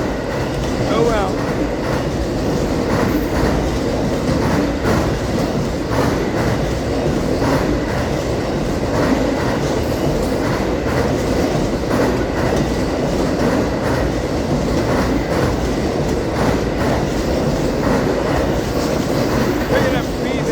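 A train rolls past close by, a steady rumble with repeated clickety-clack of wheels over rail joints, continuous and loud throughout.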